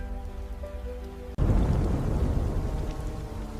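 Heavy rain of a storm pours in a dense, steady roar that swells abruptly after a brief hush, with deep rumbling underneath suggesting thunder.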